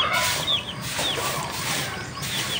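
A Rhode Island chicken clucks in short, scattered calls over outdoor farmyard background noise, fairly close and moderately loud, with no talk.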